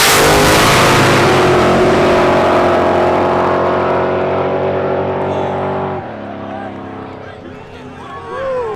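Turbocharged street race cars, including a black car, accelerating hard in a legal street race, a loud close roar of rising engines that drops away abruptly as they pull off, leaving quieter distant engine noise.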